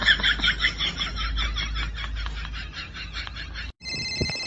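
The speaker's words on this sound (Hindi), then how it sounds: "अरे कॉल आ रही है, फोन उठाओ।" A mobile phone rings with an incoming call, a repeating chirpy electronic ringtone pulsing in quick, fairly loud bursts before cutting off briefly and resuming as a different tone.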